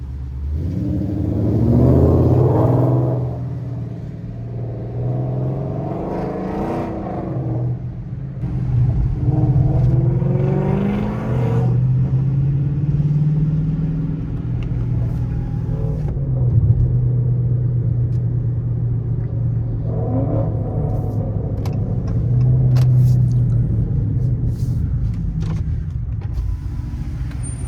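A loud Dodge Charger R/T car engine revving repeatedly, each rev swelling in pitch then dropping back to a deep rumbling idle, close by.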